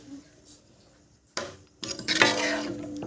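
Homemade herbal hair oil being stirred in a pan on the stove, quiet at first, then a sudden metallic scrape and clatter of a spoon against the pan, followed by louder, continuous stirring and scraping near the mic.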